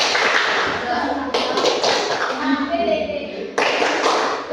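A group claps a quick rhythmic pattern together, sharp tapping claps in bursts, with voices chanting along over it.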